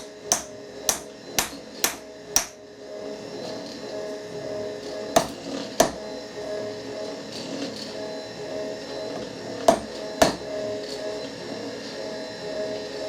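Sharp metallic taps against a milling machine vise while it is nudged into alignment: a quick run of five evenly spaced knocks, then two separate pairs of knocks later on, each clear and close over a faint steady workshop hum.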